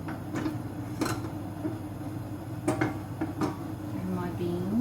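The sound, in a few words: stirring mushrooms in a frying pan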